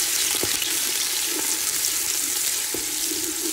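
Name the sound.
onion browning in a pan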